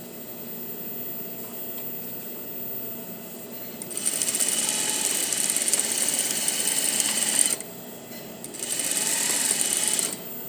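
A sewing machine stitches a dress skirt in steady mechanical whirring bursts, running from about four seconds on, pausing briefly near eight seconds, then resuming, fairly close and with no talking.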